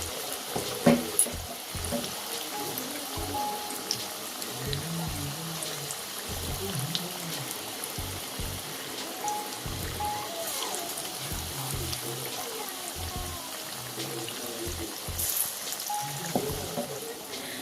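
Coriander leaf fritters (dhone patar bora) frying in hot oil give a soft, steady sizzle throughout, with faint clinks and kitchen handling noises and no talking.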